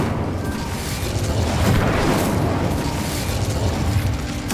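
In the video game Hogwarts Legacy, the Incendio fire spell erupts in a dense, roaring burst of flame that stays loud and continuous, with a rumbling low end throughout.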